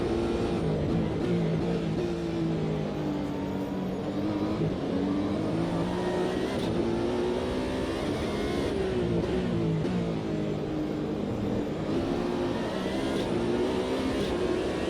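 Multi-class race cars in the Automobilista 2 racing game, a continuous loud engine drone rising and falling in pitch through gear changes and revving, with other cars nearby.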